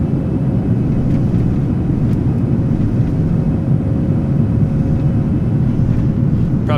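A PMDG 737-800 airliner on autopilot after flaps up in a flight simulator: a steady, loud low engine rumble and airflow roar holding evenly throughout, with a faint high tone above and no talk.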